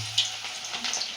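Chicken kebab pieces frying in a pan over a medium flame, giving a steady close sizzle with light crackling pops throughout.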